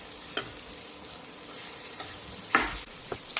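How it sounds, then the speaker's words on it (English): Tomatoes and curry leaves stir-fry in a pan for pepper chicken, a soft continuous sizzle broken by a few scraping stirs, one louder scrape near the end, close and without talk. "So stir fry this till the tomatoes are cooked."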